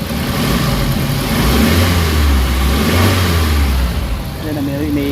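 A Suzuki Carry engine, recently repaired after knocking and low power, revs up as the accelerator is pressed, holds, then settles back toward idle. It is loud and close, with someone talking over it.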